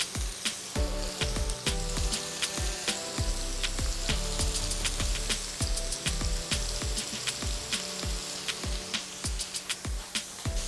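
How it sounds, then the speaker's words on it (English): Beef meatballs fry in a hot pan with a close, energetic crackle of rapid spitting pops over a steady sizzle, with no voices. "So I'm just going to fry these meatballs off, just to sort of brown them"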